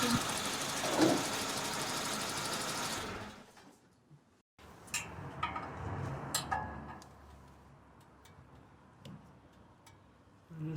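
A Suzuki Samurai engine runs with a steady, noisy idle for about three seconds, then shuts off. Scattered clicks, taps and light knocks from work on the engine bay follow.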